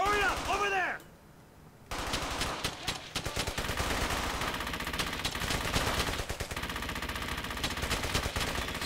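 Rapid automatic gunfire in the World War II shooter game Brothers in Arms: Hell's Highway, nearly continuous loud bursts after a short lull, with sparse echoing shots layered over a dense crackle.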